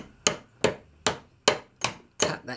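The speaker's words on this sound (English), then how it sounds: "Hammer I'm using is a tack hammer because it's got a very, very narrow edge there." A narrow-edged tack hammer taps a lead fishing feeder held in a vise, six sharp, evenly spaced metallic strikes close up with no talking.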